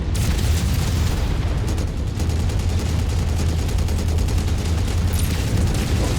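A mech in a BattleTech-style game fires a left-arm UAC-5 autocannon together with medium lasers, making a loud continuous wash of rapid cannon reports and blasts that runs through the whole stretch without pause.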